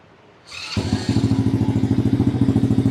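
A mini dirt bike engine cranks briefly on its electric starter, then catches and settles into a steady, rapid idle putter, loud and close, with no voices.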